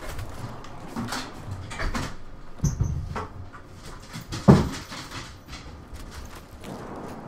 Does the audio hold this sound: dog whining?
yes